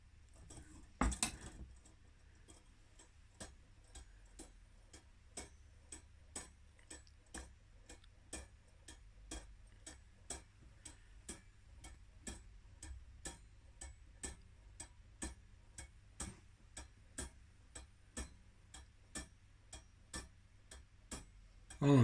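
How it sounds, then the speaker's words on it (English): A skeleton clock ticks steadily in a quiet room, its even, crisp ticks repeating at a regular pace for the whole stretch, with a louder clunk near the start as the mechanism is set going. "This is the first record of the clock actually ticking."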